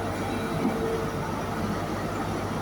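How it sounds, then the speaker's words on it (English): A ScotRail train with HST power car 43183 idles at Dundee station, a loud steady diesel rumble and hum filling the platform, with no talk. "about to depart now is the 1456 ScotRail service from Aberdeen to Glasgow Queen Street"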